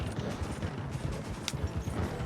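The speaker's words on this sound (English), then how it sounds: "That's a horse." Horse hooves clip-clop steadily at a moderate, even pace in a dusty forest setting, fairly close and alone with no voices over them.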